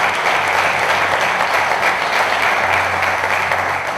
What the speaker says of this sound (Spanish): un aplauso para Jesús Ortega